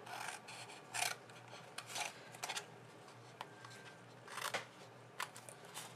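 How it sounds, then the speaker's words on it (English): Paper tabs are being cut away from a stamped paper box, giving soft, close rasping snips and rubs in short irregular bursts against a quiet background. "So the first thing you want to do is cut away these tabs here, the skinny tabs at the end."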